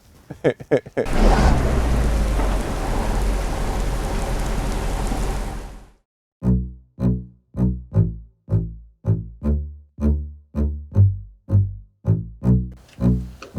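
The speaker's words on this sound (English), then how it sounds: "So we just got to Louisiana, and it's like 34 degrees, been raining all day." Heavy rain pours steadily for several seconds in wet Louisiana weather, then stops abruptly and gives way to a loud run of evenly spaced rhythmic pulses.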